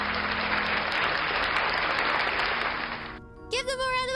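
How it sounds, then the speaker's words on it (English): Dense applause and cheering from a crowd fill most of the stretch, then cut off abruptly and give way to a brief bright musical jingle. "Give them a round of applause!"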